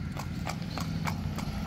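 A mare walking at a steady pace on a stud farm, hooves clip-clopping in a regular rhythm of clear, close knocks over a low steady background hum, with no talking.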